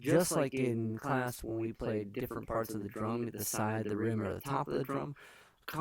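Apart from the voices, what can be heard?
No distinct noise like a dog, phone or traffic.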